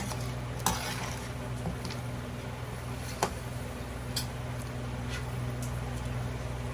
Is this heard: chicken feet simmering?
yes